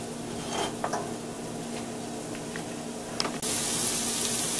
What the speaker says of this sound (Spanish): Ahora revolver todo esto para que cosa todo junto.